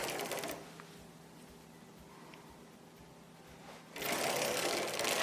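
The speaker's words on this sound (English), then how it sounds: "And I'm going to crank 9 rows." A circular sock machine is cranked through rows, giving a dense rapid clatter of needles and latches that starts loud, drops to a faint quiet stretch through the middle, then returns loud and close for the last second or so.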